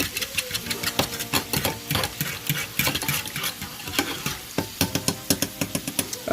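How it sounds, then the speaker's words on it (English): Chicken being stirred through gravy in a pan, with a steady run of scraping, clattering utensil strokes against the pan over a low bubbling simmer, close and fairly loud, no voices. "Give it a little mix around, make sure all the powder gets wet."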